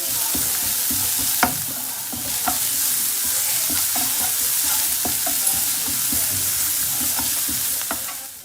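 Finely chopped onion with garam masala sautéing in a pan, a continuous near sizzle broken by regular scraping stirs, with no talking.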